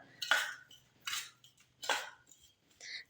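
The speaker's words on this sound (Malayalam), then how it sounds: "ഈ തേങ്ങയും ശർക്കരയും കൂടി മിക്സ് ആക്കുക" Grated coconut and jaggery stirred together in a bowl: three or four scraping, rustling strokes of a spoon against the dish, close and fairly quiet, separated by short pauses and with no talking.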